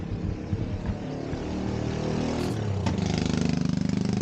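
Ojek motorcycle taxi engines idle and rev near a mountain base camp lane at Cikuray, a close, steady putter that swells into a rhythmic throbbing toward the end, with no talking.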